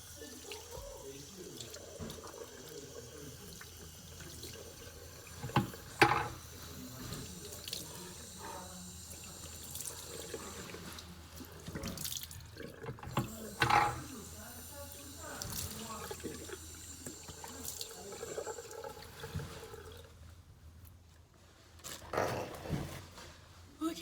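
Running tap water splashes as a face is rinsed at a sink, with intermittent splashes and drips over a steady flow, recorded fairly quietly.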